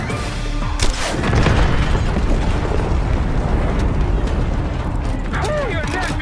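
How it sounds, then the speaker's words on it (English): A heavy booming RPG explosion and rumbling blasts in the Call of Duty Black Ops 6 campaign, loud and continuous, with voices talking over the din. "Fire an RPG at it!"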